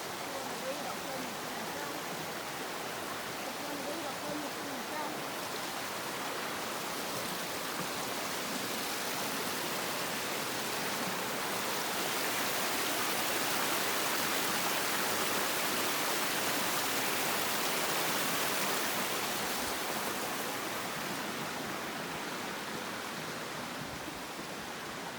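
A river flows steadily nearby at the foot of a hill. Its broadband rushing is loud and constant throughout, with no breaks.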